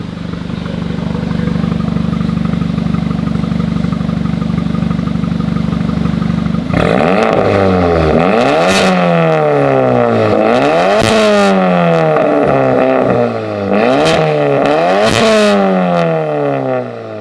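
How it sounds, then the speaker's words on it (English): A 2019 Audi S3 engine revs with its exhaust valve open. After a steady idle drone it gives repeated sharp, loud rises and falls in pitch that sound close and throaty, with no talking. "Give it some revs, Nick."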